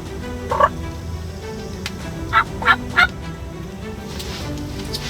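A wild turkey gobbles in spring woods near a hunting blind, a few sharp rattling bursts, one early and a quick run of three later, at moderate distance over a steady outdoor background.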